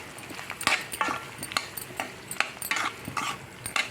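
Half a kilogram of ivy gourds (tindora) tumbling into a pan: a run of close, irregular clatters and scrapes of vegetables against metal, with sharp taps spread across four seconds over a faint background.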